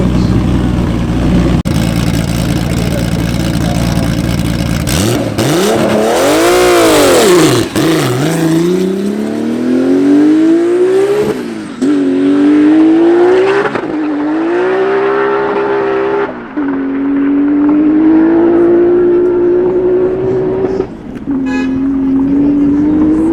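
An 1800HP Nissan GTR R35 and a 1400HP Toyota Supra accelerate hard, loud engines howling and rising in pitch through repeated gear changes, with brief drops between shifts over more than twenty seconds.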